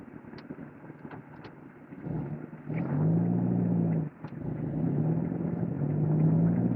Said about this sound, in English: I'm driving a stick, and it's on the ice